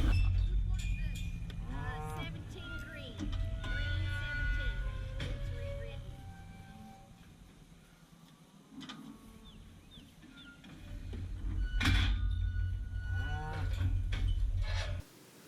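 Cattle moo repeatedly, several animals calling near and far, with livestock shuffling and people talking at times underneath.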